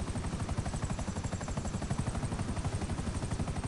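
Helicopter lifting off in GTA Online, a loud, steady rapid rotor chop with engine whine, close and continuous, no voices.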